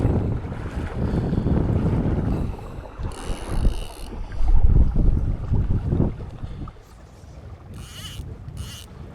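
Strong wind gusts buffet the microphone beside a trout stream, loud rushing bursts that swell and ease, with faint flowing water underneath.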